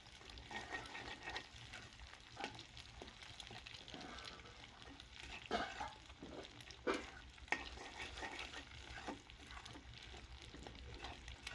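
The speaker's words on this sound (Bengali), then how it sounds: "ডিমটাকেও আমি এখন একটু ভালোভাবে তেলের সাথে ভেজে নিব" Egg fries in oil in a pan for egg noodles, a soft steady sizzle broken by several scraping stirs of a spatula, fairly quiet with no voices.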